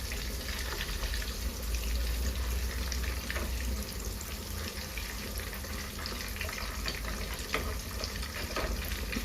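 Tomato dropped into hot oil and butter in a pan, a steady close sizzle and bubbling hiss that continues evenly throughout.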